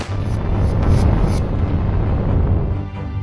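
Explosives detonated during military training produce a loud, sustained low rumble that rolls on steadily for several seconds without a break.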